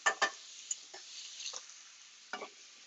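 Shrimp cooking in a hot pan with the heat just turned off, a soft ongoing sizzle broken by a few sharp clicks and scrapes of stirring, quiet and close with no talking.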